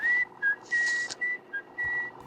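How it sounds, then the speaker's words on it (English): Someone whistles the tune This Old Man as a clear, close melody of short and held notes in a lilting rhythm, alone with a faint breathy hiss in places. "he'd hum or whistle "This Old Man.""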